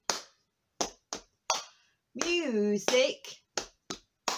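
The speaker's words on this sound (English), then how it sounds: "So time to tap our knees and clap our hands" Hands tapping knees and clapping at a children's music session, a series of sharp slaps in an uneven rhythm, close and clear, around a short stretch of singing.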